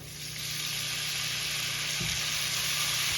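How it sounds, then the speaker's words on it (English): White wine simmering over medium-low heat in a pan for creamy garlic scallops, a steady, close, continuous sizzle and hiss with no talk. "Pour in the wine and bring to a simmer for 2 minutes or until wine reduces by half"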